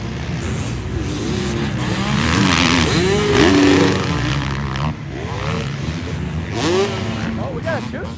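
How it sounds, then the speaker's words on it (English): A two-stroke motocross motorcycle races at a Daytona supercross event, its loud engine rising and falling in pitch with a high revving whine over the roar of other bikes and crowd noise. "Oh, we got a two-stroke."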